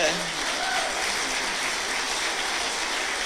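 Applause from an audience at a chamber of commerce annual meeting, a dense steady patter of clapping throughout, fairly close and filling the room.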